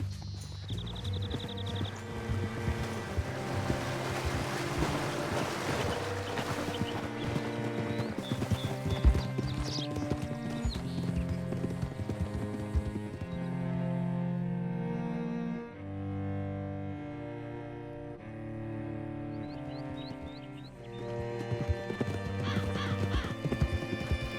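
Horse hooves clip-clopping with whinnies in the Red Dead Redemption 2 epilogue, a steady run of hoof beats layered over a swelling orchestral game score, with occasional neighs standing out.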